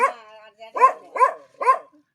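A dog barks four times close by, with short pauses between the sharp, evenly spaced barks and quiet in between.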